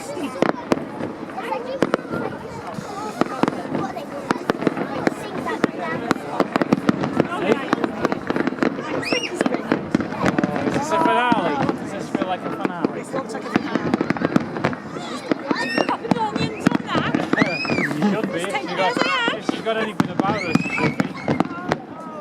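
Bonfire night fireworks crackle and pop continuously outdoors, a dense string of sharp bangs and whistles at moderate distance, with people chatting throughout.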